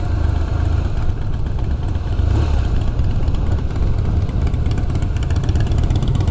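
A diesel engine runs steadily and fairly loud, a continuous low rumble with mild rises in revs, heard close by on a February outing to Bristol and Glastonbury with no talk over it.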